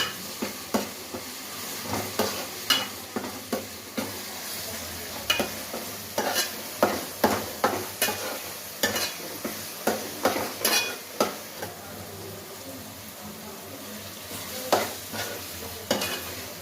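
Ginger-garlic paste fries in a pan for a fish curry, a soft steady sizzle broken by repeated scraping strokes of a spoon or spatula stirring in uneven rhythm, close up with no voices.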